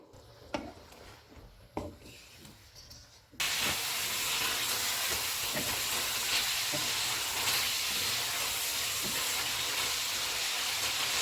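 Black pepper chicken karahi with yogurt cooks on a medium flame, giving a steady loud sizzle and hiss after a few soft clinks at the start.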